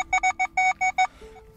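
A metal detector giving a clear signal over a copper coin, seven quick electronic beeps in an even rhythm, close and loud, followed by a fainter lower tone.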